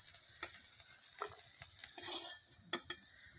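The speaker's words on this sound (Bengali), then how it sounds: "তেল গরম হয়ে গেছে, মাছটা দিয়ে ভেজে নেব, লাল করে ভেজে নেব" Prawns fry in hot oil in a wok, giving a steady hiss of sizzling broken by sharp crackles and spatters, with no talk.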